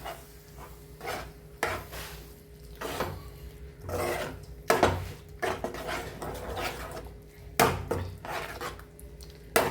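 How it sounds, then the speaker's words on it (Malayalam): A spoon clatters and scrapes through an egg and tapioca mixture in a pan with a soft sizzle, a repeated series of short metallic strokes close by, without speech. "ഇനി അതൊക്കെ ഒന്ന് ഇളക്കി കൊടുക്കട്ടെ."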